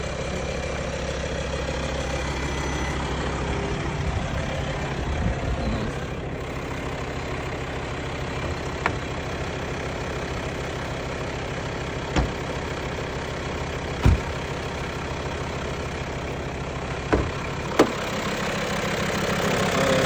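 A car engine idles steadily from a cold start with a continuous low rumble, broken by a few sharp clicks or knocks spaced through the stretch.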